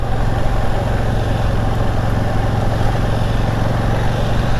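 A KTM 890 Duke R motorcycle engine idles steadily and loudly nearby on a muddy, gravelly spot, a constant rumbling drone with no break or change in pitch.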